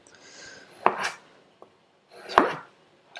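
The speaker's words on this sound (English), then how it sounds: "So we've got our potatoes. So you can have these peeled ready, and I'll just dice these up." A knife dices peeled potatoes on a chopping board in a vegetable-prep lesson, giving two sharp, close chops with a fainter tap between them.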